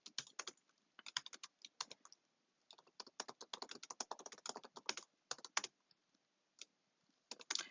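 Rapid keystrokes on a computer keyboard, arriving in quick clattering bursts separated by brief pauses, close and fairly quiet with no voices.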